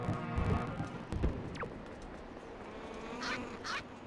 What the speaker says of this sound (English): Yeah, this is the noise birds make.